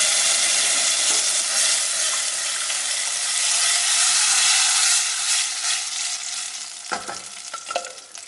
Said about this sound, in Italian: aggiungiamo quindi la polpa di pomodoro